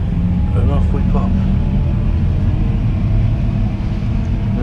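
Fendt 1050 tractor pulling away, heard from inside the cab: a loud, steady low engine rumble fills the cab while someone talks over it.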